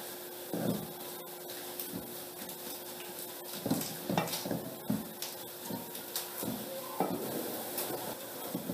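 Grated carrots cooking with sugar in a pan for gajar halwa, a spoon scraping and stirring in irregular bursts over a low steady sizzle, fairly close and alone without talk.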